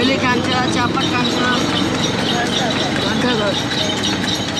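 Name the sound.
horse hooves of a tanga cart clip-clopping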